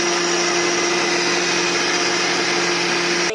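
A kitchen mixer grinder whirs steadily as it grinds spices, including cumin, into a fine powder, its loud continuous motor drone holding an even pitch throughout and cutting off abruptly at the end.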